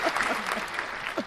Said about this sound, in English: But here's your applause.